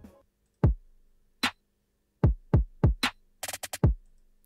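A chopped drum loop plays in sparse, irregular hits: deep booming kicks and snappy strikes, then a quick cluster of short chopped stabs near the end, with no other sound between them.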